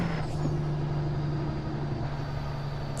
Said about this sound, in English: How can you not love the sound of that thing? It sounds so good. And I'm just using the Jake, no actual braking here.